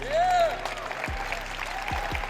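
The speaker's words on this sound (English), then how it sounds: "clapping" Audience applause at a talk, a broad wash of clapping that runs throughout, with a few low thumps and a brief voice-like tone near the start.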